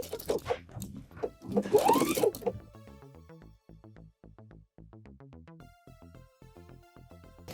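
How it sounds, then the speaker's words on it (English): Sewing machine stitching down pleats on a garment, a rapid even mechanical clatter of needle strokes following a brief burst of louder handling noise, close and clear. "So now I'm gonna sew the pleats down."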